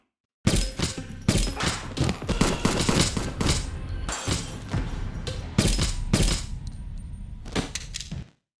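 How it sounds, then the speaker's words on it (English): Rapid bursts of gunfire ring out loud and close, volleys of shots rattling in quick succession for several seconds before cutting off. "An armed attacker bursts in and opens fire."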